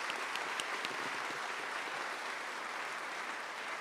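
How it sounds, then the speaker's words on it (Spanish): Sustained audience applause at a municipal government report event fills the hall with an even, dense clatter of many hands that holds steady throughout. "la señora Angélica Hernández de Peredo, a quien pido un fuerte aplauso."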